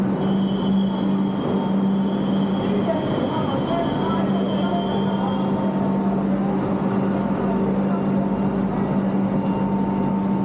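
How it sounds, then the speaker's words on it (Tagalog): A metro train pulls into a station platform in Hong Kong, a steady loud rumble of wheels and carriages with a high squeal and tonal whine that fade midway, continuous throughout with no clear talk. "Arriving at platform 2, please wait behind the yellow line."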